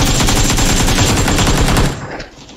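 Rapid automatic gunfire from the PC battle-royale game PUBG PC Lite, loud and dense bursts for about two seconds before cutting off into quieter game ambience.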